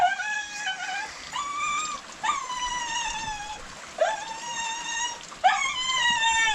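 A dog whimpers and yips in a cold outdoor setting, a run of high, wavering whines in four or five drawn-out bursts, close and fairly clear with a soft watery background.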